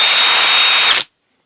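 A handheld power drill spins a buffing wheel against a piece coated in lotion-like polishing compound, a loud, steady high whir that runs for about a second and then cuts off abruptly into silence.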